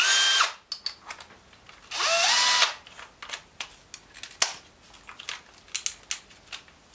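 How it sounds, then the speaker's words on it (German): A power drill with a 9mm bit whirs in two sustained bursts, followed by a series of sharp clicks and clatters close by. "Jetzt nehme ich mir einen Bohrer. Das ist jetzt in dem Fall ein 9mm Bohrer."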